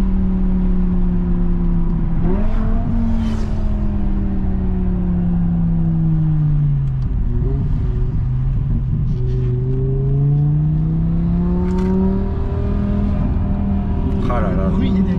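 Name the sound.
BMW M6 V10 engine revving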